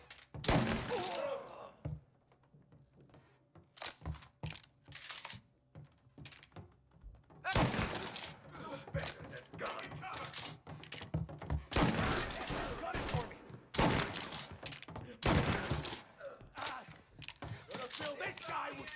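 Gunfire in Mafia Definitive Edition comes as repeated loud clusters of sharp shots and thuds, separated by short quiet gaps, with voices talking in between.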